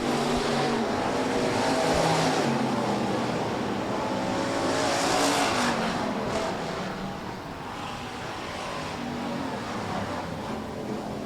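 Hobby stock race cars speed around the track at Rapid Speedway during a heat race, a continuous loud engine roar that swells and fades slightly as the cars pass.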